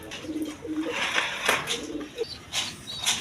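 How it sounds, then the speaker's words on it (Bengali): High flying Giribaz pigeons coo in low, rolling calls, with a few sharper bird sounds and a faint flutter around them, fairly close amid a noisy loft. "হাই ফ্লাইং গিরিবাস কবুতর আছে"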